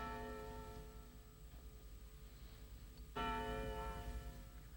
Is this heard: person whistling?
no